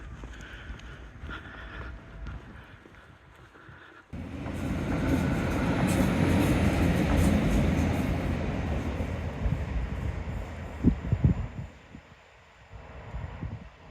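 A train passes at a seaside back beach on a calm day after a storm, its broad rumble rising suddenly and holding steady for several seconds before fading, with wind noise buffeting the microphone and a few louder knocks near the end.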